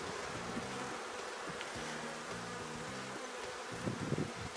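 Honeybees buzzing steadily around hives during a hive inspection, a dense continuous drone of many wings with individual bees passing close, no talk over it.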